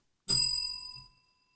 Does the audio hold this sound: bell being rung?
yes